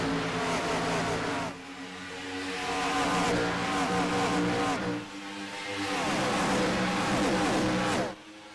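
Race cars scream around the track at Auto Club Speedway in the FUEL Premiere Series finale, several loud engines roaring close by in overlapping waves as the pack sweeps past, briefly easing and then surging again.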